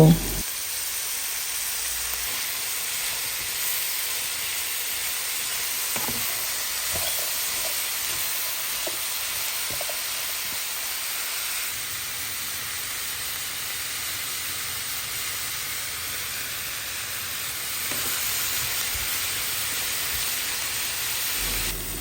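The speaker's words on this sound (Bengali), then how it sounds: "চাইনিজ সবজিগুলোকে বেশি ভাজতে হয় না তাহলে কালার নষ্ট হয়ে যায়" Colorful vegetables stir-frying for a Chinese chicken platter make a continuous hissing sizzle, steady and close, with occasional faint clicks of stirring beneath it.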